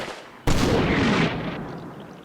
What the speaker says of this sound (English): And that was an explosion.